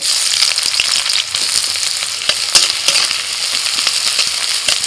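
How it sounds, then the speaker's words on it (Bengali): Chopped onion frying in a pan with cardamom, cinnamon and cloves: a dense, steady sizzle with crackling pops and faint scrapes of stirring throughout, close and fairly loud, no voices. "পেঁয়াজ ভাজা হয়ে গেছে"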